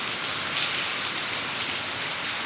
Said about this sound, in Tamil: பாருங்கள் எங்கள் ஊரில் மழை எப்படி செமையாக பெய்யுது பாருங்கள்